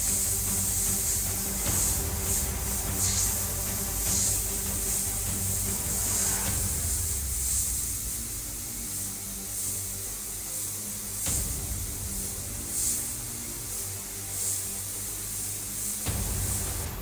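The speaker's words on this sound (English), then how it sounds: "trigger finger on and off to make the airbrush kind of spit out" Steady airbrush hiss of paint spraying through a skull template, broad and continuous, with brief pauses and bursts as the flow stops and restarts.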